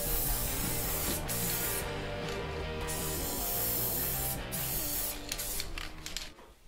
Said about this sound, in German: das Auto ist jetzt soweit mit den Spraydosen fertig